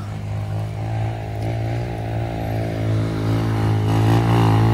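Trail motorcycle engine drones steadily close by, riding down a steep muddy road after rain, its low harmonic hum swelling slightly toward the end with no one talking.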